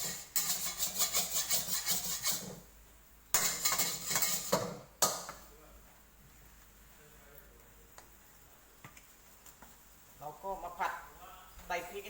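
A metal wok is handled on a stove while cooking a spicy curry with snails and pickled bamboo shoots, giving bursts of clattering, ticking metal knocks and scrapes, a quieter stretch in between, then lighter clinks near the end.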